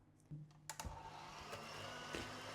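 Butter and sugar being creamed together in a bowl by an electric mixer, a steady whirring drone that starts after a couple of clattering knocks and keeps running to the end.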